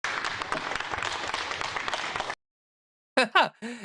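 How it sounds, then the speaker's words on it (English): A crowd at a Trump event claps for a couple of seconds, a steady subdued patter of applause that cuts off abruptly, followed by silence and a few brief voiced sounds. "Muted applause there for Rump."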